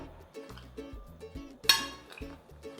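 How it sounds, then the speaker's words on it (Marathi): A single metallic clink of a lid set onto a pot on a gas stove stands out among quieter kitchen clatter and background music. "मी गॅसवर याच्यावर झाकण ठेवते आहे"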